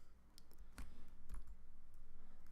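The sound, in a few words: typing a configuration command on a computer keyboard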